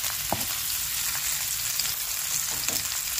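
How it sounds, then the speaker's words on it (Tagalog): Garlic and onion sautéing together in a hot pan, a dense continuous sizzle with faint stirring clicks, close and even, no speech. "Sunod na po natin yung mag-asawang bawang at sibuyas. Pagsabay na po natin yan."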